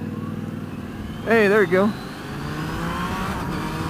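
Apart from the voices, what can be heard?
Yamaha Niken GT motorcycle engine accelerating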